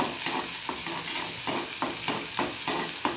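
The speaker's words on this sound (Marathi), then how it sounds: "त्यामध्ये आपण राई टाकून घेऊ, नंतर जिरं टाकून घेऊ।" Mustard and cumin seeds sizzle in hot oil in a pan, a loud close crackling hiss that swells in regular pulses as the pan is stirred about every half second.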